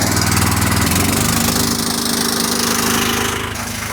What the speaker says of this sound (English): crank the pump up